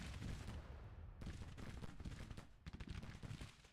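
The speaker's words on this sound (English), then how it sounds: "I have some artillery firing from this side" Artillery fire in a war strategy video game, a steady barrage of overlapping booms and gunfire thumps rolling on without pause, loud and dense, with a brief lull before the shelling picks up again.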